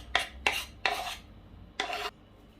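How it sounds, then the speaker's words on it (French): Button mushrooms tipped into a pan of sautéed onions, giving four short bursts of rasping, scraping sizzle, each about a quarter second long, close and fairly quiet, with no talking. "Après faire revenir les oignons, là, je rajoute les champignons de Paris."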